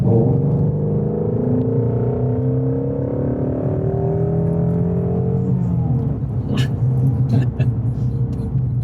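A Ford Mustang in sport or circuit mode pulls away, its engine droning and rising in pitch before easing off, steady and fairly close, with muffled voices underneath.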